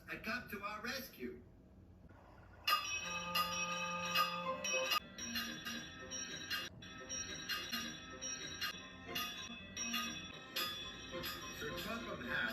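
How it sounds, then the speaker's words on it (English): Toby the tram engine from Thomas and Friends, in a wooden railway remake, rings his bell in bright, repeated tones over a busy background, loud and close throughout. "And I will ring my bell as loudly as I can"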